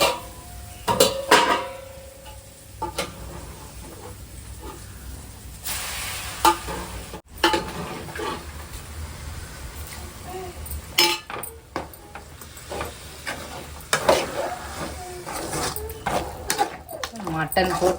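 Mutton stirred into a pot of frying masala with onions for a curry, with scraping, clinking utensil sounds and a soft sizzle; a person talks over the cooking in places.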